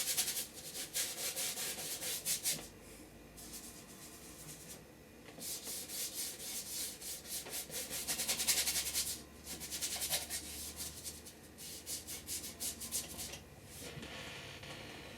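A paintbrush scrubs oil paint onto canvas for a seascape, giving soft, close, dry rubbing strokes in repeated bursts with short pauses, fairly faint and heard alone.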